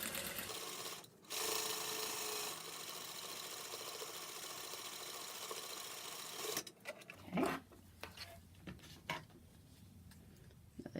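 A sewing machine stitches fabric over welt cording in a steady fast whirring run for about six seconds, then stops, leaving soft handling clicks and rustles.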